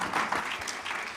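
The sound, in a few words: audience applause at a conference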